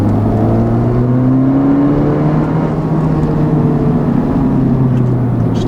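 A 2019 Honda Civic Type R with a Borla aftermarket exhaust runs steadily and loudly, with a deep exhaust drone and a faint turbo whine rising above it, no voices.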